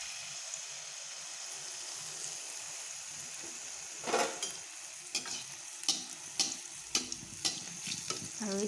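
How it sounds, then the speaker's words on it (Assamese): Tel pitha, rice batter cakes, frying one by one in oil over low flame: a constant soft sizzle, joined in the second half by a series of sharp spattering bursts and utensil clicks at roughly regular intervals. "আৰু এতিয়া মই এইখিনি ভাজি আছোঁ এখন এখনকৈ"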